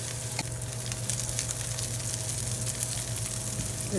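Eggs sizzle steadily in a hot pan for an egg masala curry, a continuous close frying hiss with no voices over it.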